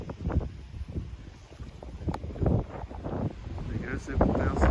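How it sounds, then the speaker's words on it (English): Gusty wind buffets the microphone in uneven bursts at a hillside animal sanctuary, rumbling low and loud, with a person talking over it at times. "It's very, very windy."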